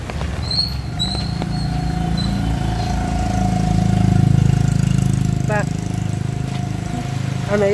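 An e-bike running with a steady electric whine and a low hum, mid-distance and continuous, with a few faint squeaks and people talking nearby.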